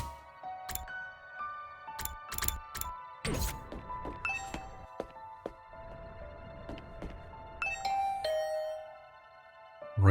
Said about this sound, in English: Rang the doorbell and could hear the bell ring on the other side of the door